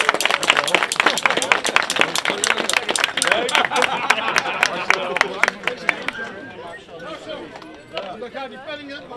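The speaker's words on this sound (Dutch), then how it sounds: "Dus het applaus is zeer terecht voor jou." Brisk, dense applause from an audience at a knighthood honours ceremony rattles for about six seconds, then thins out and fades as voices begin talking.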